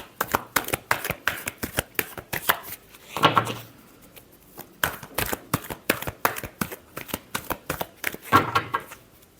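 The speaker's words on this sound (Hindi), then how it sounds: "Last shuffle." Tarot cards are shuffled repeatedly by hand, a close, steady run of crisp riffling flicks with two heavier bursts where the deck is bridged or tapped together.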